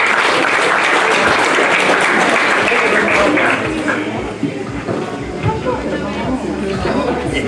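Crowd applause at a boxing weigh-in for two fighters, dense, loud sustained clapping that thins slightly midway, with cheering and chatter mixed in.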